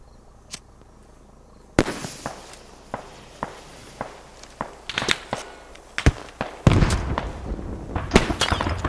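Gunfire in the tactical shooter game Squad: a run of sharp, separate shots, sparse at first and then quicker, with a denser, louder cluster near the end over a low background hum.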